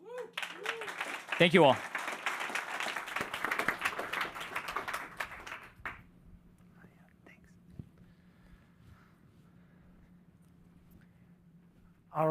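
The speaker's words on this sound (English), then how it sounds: "let's give another huge round of applause" A round of audience applause at a startup accelerator demo day, loud clapping for about five seconds after a brief spoken phrase, then dying away to a quiet hall.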